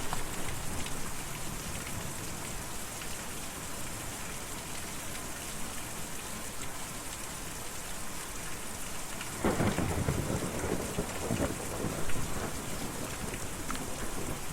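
Steady rain with rumbling thunder in the video game Kentucky Route Zero, a constant wash of rainfall broken by a loud, close thunderclap near the end, with no voices.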